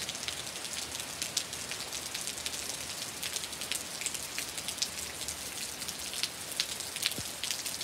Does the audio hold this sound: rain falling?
yes